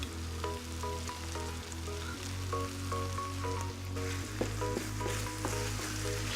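Diced tomatoes stirred into a pan with browned bits of cooked filling for turkey enchiladas, sizzling steadily throughout under a loud, sustained musical backing.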